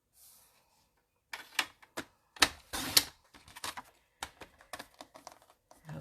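White card stock being cut in half for a handmade card, a run of crisp clicks and short slicing crunches, close and fairly loud, with brief pauses between strokes and no talking.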